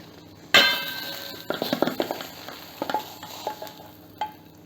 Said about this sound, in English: So we'll use a lid to flip the omelette and cook the other side.